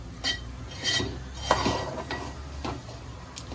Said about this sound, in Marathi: हा रवा आता छान खरपूस भाजून घ्यायचा